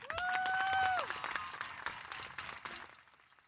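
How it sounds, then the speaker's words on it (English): An audience at the Hueneme High School graduation breaks into applause. The clapping is fairly loud at first with a whoop over it, then thins into scattered claps and fades away. "Let's give her another round of applause, please"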